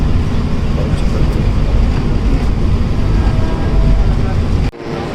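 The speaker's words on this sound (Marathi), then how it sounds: "नायगाव चर्च ए सी ट्रेन पकडली" A steady, loud rumble inside a moving air-conditioned suburban train, with a constant low roar of wheels on rails that drops off abruptly near the end.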